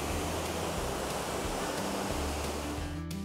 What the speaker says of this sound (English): No big deal, just two massive waterfalls right here.